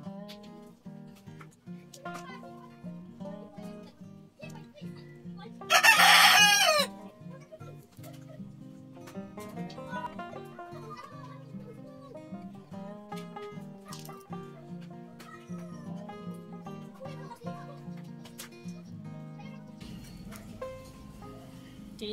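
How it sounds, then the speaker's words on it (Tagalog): Chickens cluck steadily throughout, and early on a rooster gives one loud, harsh crow nearby. "Maingay masyado si manok."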